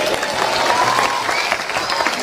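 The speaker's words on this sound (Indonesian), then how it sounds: "Tepuk tangan telat." An audience at an Islamic lecture gives a short burst of applause, dense clapping from a crowd in a hall, with a voice faintly audible underneath.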